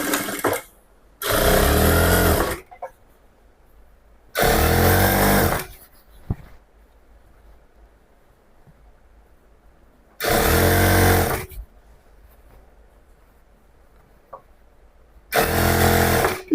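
Sewing machine stitching a pant seam, joining the fabric about a quarter inch in from the edge. It sounds in four loud, steady bursts of a couple of seconds each, separated by near-silent pauses.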